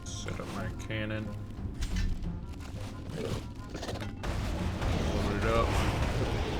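Cannon fire against Dagannoth enemies in an online fantasy game, heard as repeated booming shots over steady game music, with a person talking throughout.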